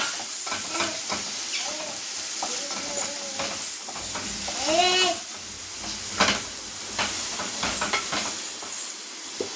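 Ginger, garlic and green chili sautéing in a pan for Tamil-style thick mutton curry, with a steady close sizzle and hiss, intermittent stirring and scraping clinks, and a brief whistling tone midway.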